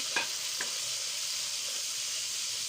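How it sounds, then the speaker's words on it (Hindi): Tomatoes tipped into a pan of half-browned onions in a dhaba-style mixed vegetable dish, giving a steady broadband sizzle with two brief stirring clinks near the start; no talking. "तो इस टाइम पे हम अपने टमाटर ऐड कर देंगे"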